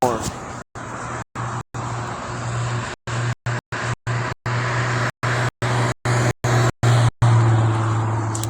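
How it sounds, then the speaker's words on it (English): An old car passing on a road, its engine a loud, close, steady drone with a low hum, the sound repeatedly cut by short gaps. "Ooh, that's a nice car."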